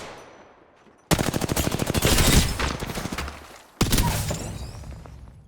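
Rapid bursts of automatic gunfire in a first-person shooter game: a quiet lead-in, then a loud, dense volley of shots lasting over two seconds, a brief gap, and a second sharp burst that trails off.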